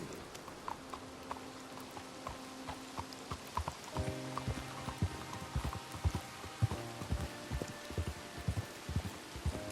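Horse hooves clip-clop at a steady walking rhythm through rain in the Red Dead Redemption 2 video game, quiet and close, over soft continuous rainfall and faint musical tones.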